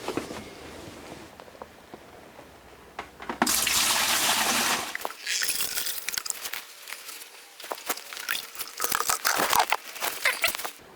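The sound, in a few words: water filling a hydroponic reservoir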